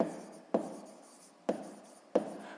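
A pen or chalk writing a physics formula, three or four distinct scratchy strokes, each starting with a sharp tap and fading into a brief rub, close and quiet with no speech.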